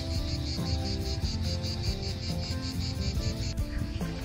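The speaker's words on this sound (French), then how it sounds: "Et on entend fort les cigales." Cicadas sing loudly outdoors in a vegetable garden, a dense, steady buzzing chorus that pulses rhythmically and carries on alone throughout.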